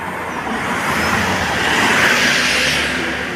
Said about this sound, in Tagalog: Dadaan na naman sa sasakyan.